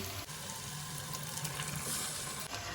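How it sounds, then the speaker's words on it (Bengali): Boiled mung dal going into hot spiced oil, a dish with fish head, gives a steady broadband sizzle that runs through the whole stretch with a brief dip near the start, and no talking. "এবার আমি ডালটাকে সেদ্ধ করা ডালটাকে এর মধ্যে দিয়ে দিচ্ছি"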